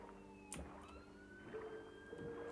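A police car siren wails faintly outside a window as it passes, its rising tone heard at low level under quiet indoor background noise.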